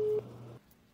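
Telephone busy signal: a steady electronic tone that cuts off partway through, followed by quiet line hiss, with no talk.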